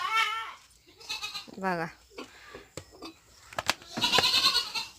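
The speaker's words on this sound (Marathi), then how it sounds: "बांधून आहेत शेळ्या बरं का." Goats tethered on a farm bleat several times in short wavering calls, close by, with a person speaking between and over them.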